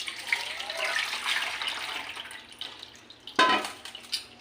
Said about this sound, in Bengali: একটা ছাঁকনি নিয়েছি, ছেঁকে নেব।